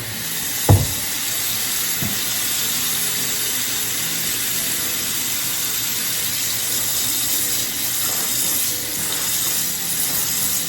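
Water from a kitchen tap gushes steadily into a pot of collard and mustard greens, a continuous hissing rush with a couple of brief knocks near the start.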